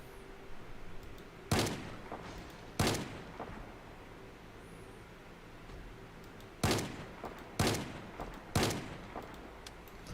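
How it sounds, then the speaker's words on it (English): Sharp, loud gunshots in the Project Zomboid survival game, two close together, then a pause, then three more, each cracking out with a short decaying tail over a quiet background. "I'm shooting the survivors just to try to give us some CPU"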